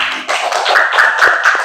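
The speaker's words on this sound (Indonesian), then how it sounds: "Tepuk tangan." Hands clapping in a classroom during a teaching session, a dense, fairly loud patter of many overlapping claps from a group of students, sustained and fairly even throughout with no voices over it.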